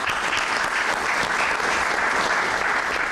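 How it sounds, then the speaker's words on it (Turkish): Steady, dense applause from an audience at a city council gathering, continuous clapping filling the whole moment at even loudness. "Sizleri bir kez alkışlıyorum."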